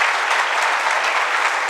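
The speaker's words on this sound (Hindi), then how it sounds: "आपके लिए ताली बजाता हूं" Steady, dense applause from an audience at a youth wing gathering fills the space, loud and continuous without a break.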